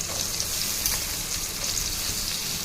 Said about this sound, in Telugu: అదే ఆయిల్ ఉల్లిపాయ ముక్కలు వేయించుకోవాలి.